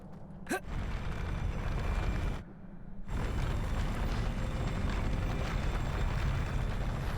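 The Incendio fire spell in Hogwarts Legacy gives a sharp whoosh, then a sustained roaring, crackling fire, which cuts out briefly before resuming at full strength.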